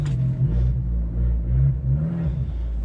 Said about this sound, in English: We do have the record Monza exhaust on this car.